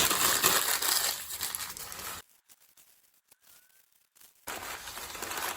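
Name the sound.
crumpling small pieces of newspaper by hand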